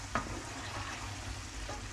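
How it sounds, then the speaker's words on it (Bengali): Prawns cooking in a pan, stirred slowly, give a steady low sizzle with a few soft scrapes of the spatula. There is no talk, and the sound stays moderately faint throughout the short stretch. "আর আমার এই তো প্রনটা কুক হচ্ছে এখানে, এই নেড়ে দেবো আস্তে আস্তে"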